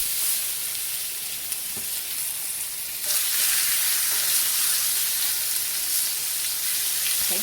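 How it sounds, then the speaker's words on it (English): Steaks sizzle loudly in a hot oiled skillet on a stovetop, a bright crackling hiss that swells sharply partway through as more meat goes into the pan, with no talking. "You want to hear that nice sizzle?"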